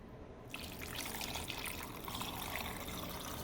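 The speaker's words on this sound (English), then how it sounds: "Add some water." Water pours steadily into a pot of pureed garlic, onion and bay leaf for birria brisket, a continuous close splashing trickle that starts abruptly after a brief quiet moment and runs without talk.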